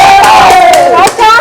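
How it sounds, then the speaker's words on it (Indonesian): A crowd cheers for team A at an art-themed game event, with loud overlapping shouts and whoops from many voices close by and a brief dip before the cheering surges again. "Tepuk tangan buat tim A."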